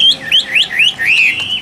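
A caged tam hoàng songbird sings loudly and close by, repeating quick, bright whistled chirps in a steady rhythm with no pauses.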